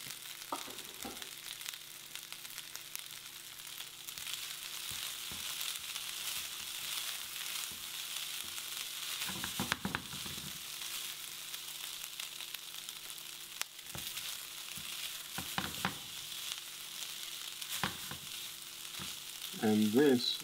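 Rice toasting in a pan for mushroom risotto, a steady soft sizzle with occasional stirring scrapes running throughout, moderately close and without talk.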